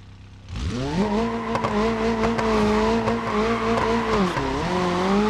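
A car in BeamNG.Drive is driven on an icy track on two burst tires: a loud engine kicks in abruptly and holds a steady, slightly wavering roar with harsh scraping grit beneath it, dipping briefly near the end.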